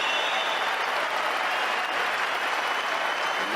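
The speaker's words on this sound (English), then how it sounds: "Crowd going quite crazy here." Crowd at a German Open 2017 table tennis match applauding loudly and steadily, a dense wash of clapping and cheering with no break from start to finish.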